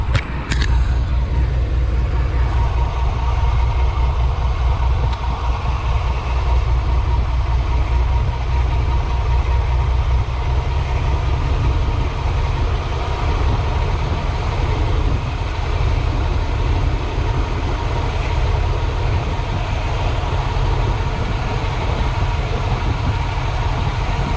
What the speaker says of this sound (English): Sounds like it's kind of missing a cylinder is what it really sounds like.